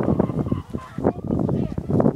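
Chickens wandering around a farm pen, their clucks and squawks mixed with people talking close by throughout.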